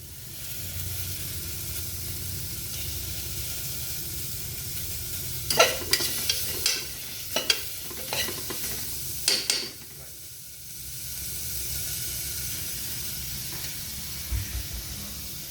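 Onions and leeks cooking in a pot for oyster soup give a low continuous sizzle and hiss, broken mid-way by a cluster of clattering stirs and scrapes, nearby, with no talking.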